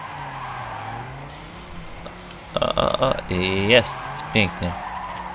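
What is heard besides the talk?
car drifting with tire squeal in the video game TrackMania 2 Canyon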